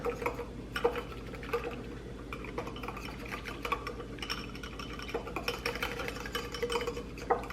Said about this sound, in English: So go ahead and put that in, and we're gonna mix it up.